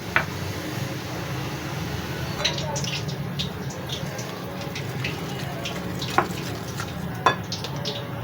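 Water is stirred gradually into gram flour batter, giving a steady wet mixing and swishing with occasional sharp clinks of the spoon, under a voice speaking throughout.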